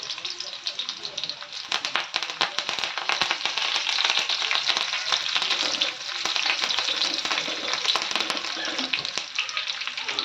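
Curry leaves and onion frying in hot oil with garlic for a spiced drumstick vegetable dish, a loud, dense crackling sizzle with sharp pops throughout, steady and close.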